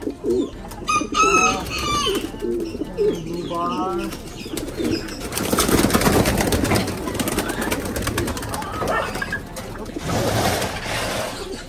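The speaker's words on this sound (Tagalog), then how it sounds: "Ito mga kalapatids, muntik na silang tumakas." Pigeons, including a blue bar bird, coo and shuffle about in a loft, their calls close and repeated through the clip, with brief bird chirps and rustling movement; a voice also speaks.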